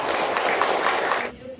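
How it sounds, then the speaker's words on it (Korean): Applause from a seated audience greeting a professor arriving to lecture on a poet's family literary history, a steady dense clapping that holds for over a second and then stops abruptly. "나오실 때 큰 박수로 맞이해 주시기 바랍니다."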